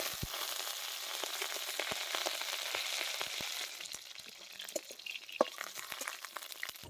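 Lentil dumplings (dal bori) fry in hot oil in a wok, giving a steady close sizzle with scattered pops and crackles that eases slightly partway through.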